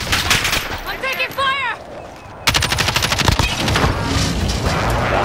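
Rapid automatic gunfire in Call of Duty Warzone, loud close bursts of crackling shots in quick succession with a voice calling out over the opening shots.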